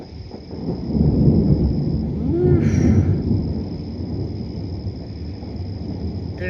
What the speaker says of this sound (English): You can't hear it because of the thunder.